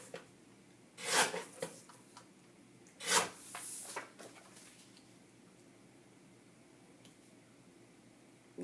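Scissors trim a small black paper mat for a scrapbook: two short, close snips or rubs, then a few faint rustles of paper, with quiet room tone between.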